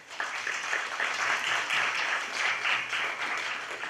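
Audience applause at a student leadership debate, a steady wash of many hands clapping for the candidates, moderately loud and continuous throughout without talk.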